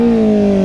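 A Kawasaki ZX-4RR 400cc sport bike engine holding a steady high-pitched whine with a slowly falling tone, loud and close for a brief moment.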